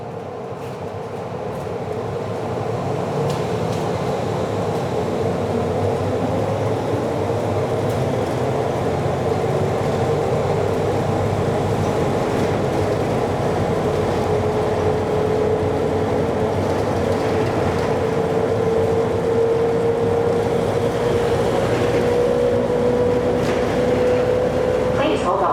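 Miami Metromover Inner Loop people-mover train approaching College North Station, a steady loud rolling rumble with a rising whine that builds through the stretch, heard from inside the car.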